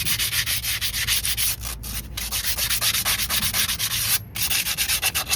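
Steady, rhythmic back-and-forth sanding of a Peugeot Expert brake hub with sandpaper, coarse abrasive scrubbing on metal repeated in quick even strokes, close and loud with a few brief pauses.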